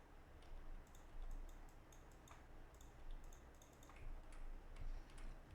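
Soft, quick computer mouse clicks come in small irregular clusters, faint and close, over quiet room noise while working in Photoshop.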